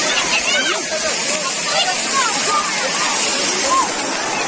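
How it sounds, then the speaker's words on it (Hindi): Water from a garden fountain splashes and sloshes over hands in a continuous loud rush, with people chattering in the background. "हाथ में पानी"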